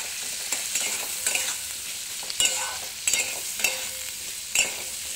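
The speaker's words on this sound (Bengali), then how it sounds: "এগুলো একটু হালকা ভেজে নেব" Chilli chicken with capsicum and green chilli frying in a pan, a steady hiss under repeated spatula scrapes and clatters roughly every second, close and clear, with no voices.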